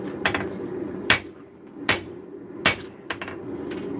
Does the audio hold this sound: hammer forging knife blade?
yes